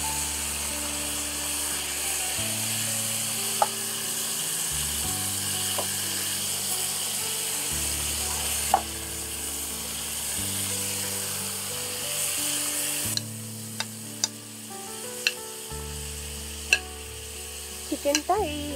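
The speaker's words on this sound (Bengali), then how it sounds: "চিকেনটা এই তেল আর ঘিয়ের এটাতে ভালো করে ফ্রাই হবে।" Chicken fries in oil and ghee while being stirred, with a continuous sizzle under repeated scraping strokes. Sharper clicks and taps of the utensil come near the end.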